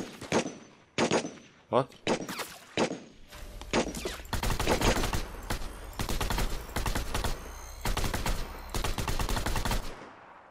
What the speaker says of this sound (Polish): Tam się strzelają.